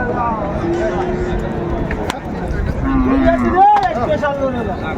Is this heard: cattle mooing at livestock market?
yes